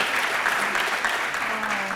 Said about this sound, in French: On les applaudit encore très très fort.